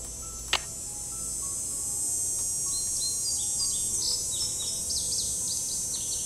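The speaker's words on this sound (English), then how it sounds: "Okay, I definitely hear a bird." Repeated high, quick bird chirps in a steady sequence over a faint constant background hiss, with one brief sharp click near the start, in the video game Nancy Drew: Ghost Dogs of Moon Lake.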